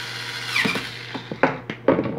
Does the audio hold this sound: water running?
no